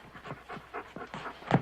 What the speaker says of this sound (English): Eddie, will you get them fool dogs out of here